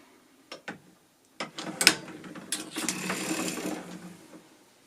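A hand-cranked sock knitting machine clicks and ratchets in a few isolated clacks, then turns in a longer run of close gear-like whirring and rattling.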